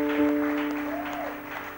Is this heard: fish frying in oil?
no